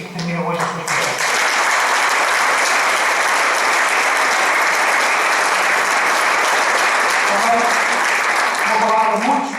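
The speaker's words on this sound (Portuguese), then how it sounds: "peço a todos, de uma forma muito sincera, uma grande salva de palmas para toda a direção" Sustained applause from an audience at a volunteer fire brigade ceremony honouring the outgoing board, loud and steady for nearly ten seconds, with a few voices briefly audible at the start and near the end.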